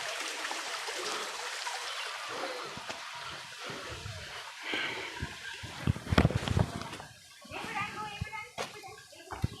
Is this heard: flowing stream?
yes